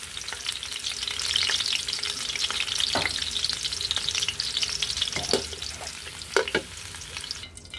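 Large onions fry in a pan for a pompano steak dish, a continuous bright sizzle with occasional stirring scrapes and pops, close and steady with no one speaking.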